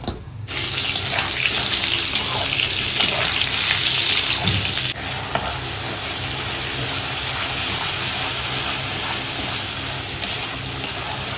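Food fries in a pan during preparation of an egg curry, a loud, dense sizzle like running water that holds steady throughout, with a brief break and a small clatter near the middle.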